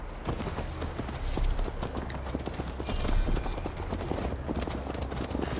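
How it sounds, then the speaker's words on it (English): Horses galloping in a steady, rapid clip-clop of hooves, loud and continuous, in the video game Assassin's Creed Valhalla, with a faint whinny and a low rumbling backdrop. "Mount up, Eivor. It's a long ride to Tamworth."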